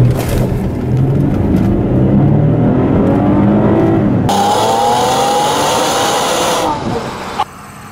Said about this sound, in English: So this was the all-wheel drive version. So that means that the takeoffs are quite a bit better.